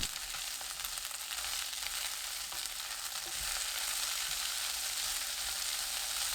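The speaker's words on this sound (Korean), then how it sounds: "완두콩 넣고 1분 볶아주세요" Green peas and garlic stir-frying in oil over medium heat, a soft continuous sizzle with an occasional faint stir, close by and fairly quiet, no one talking.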